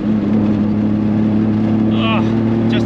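A small 1-litre front-wheel-drive VW up is driven hard with the throttle flat, its engine giving a loud, steady, droning hum from inside the cabin, with a brief voice near the end.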